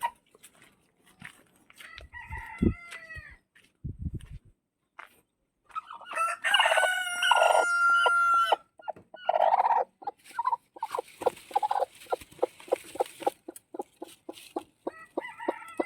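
Barred Plymouth Rock chickens, including a broody hen, cluck in short bursts, and a loud crow rings out midway, followed by more rapid clucking close by with no talk.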